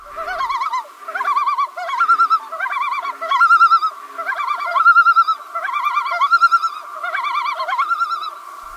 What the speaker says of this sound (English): territorial call that warns other intruding loons to stay away from their side of the lake